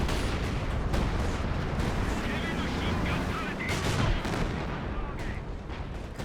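A Company of Heroes 2 time-on-target artillery barrage on the Nordwind map, with dense overlapping shell impacts and blasts arriving in quick succession at loud, sustained volume, the rumble easing slightly toward the end.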